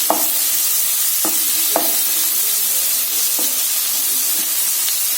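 Chopped onions and tomatoes sizzling in a pan, a steady loud hiss with several spatula stirs and scrapes spaced across it.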